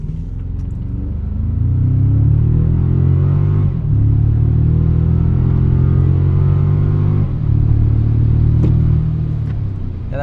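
A 2025 Toyota Tacoma TRD Pro pickup accelerating hard from a standstill in 4-high, its engine roaring up through the gears with clear drops at the shifts, loud and close with no talking.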